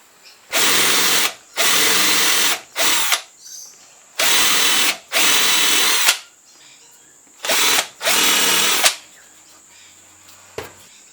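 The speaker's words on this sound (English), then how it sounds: "drill those out" A power drill bores lead holes into a wooden yellowbelly perch swimbait lure, running in several loud, sustained bursts separated by short pauses, close to the microphone with no talking.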